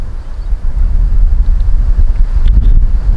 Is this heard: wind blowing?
yes